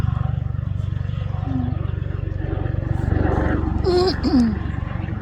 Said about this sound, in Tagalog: Oh, may helicopter.